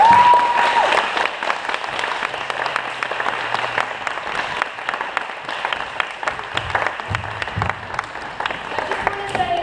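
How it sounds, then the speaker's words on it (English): An audience claps in a sustained, full burst of applause that fills the room at close range, with a few faint voices and cheers mixed into the dense clapping. "So can we give them another clap?"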